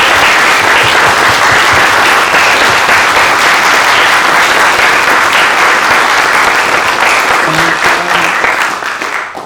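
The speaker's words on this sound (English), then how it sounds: "can we give all the candidates a round of applause" An audience at a youth parliament results and presentation evening gives candidates a sustained round of loud applause, steady clapping that begins to fade near the end.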